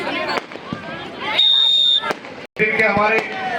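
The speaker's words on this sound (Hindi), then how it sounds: "पटाखे इस बात का संकेत कि फाइनल मैच होने जा रहा है।" Firecrackers burst at a girls' junior state kabaddi championship semifinal, sharp crackling pops and bangs scattered through loud, continuous commentary from someone speaking over the venue.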